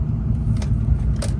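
A lifted 2004 Ford F250 truck accelerates, its engine a steady loud low rumble with slight rises as it pulls through the gears; no one speaks.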